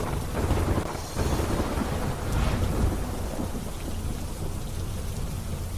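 Heavy monsoon downpour in Porbandar, a dense, steady roar of rain hammering surfaces with deep rolls of thunder rumbling underneath, continuous and loud throughout.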